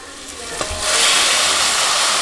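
Water pours steadily into a cooking pot already holding chicken bouillon, salt and paprika, a rushing splash that swells and holds for about a second and a half.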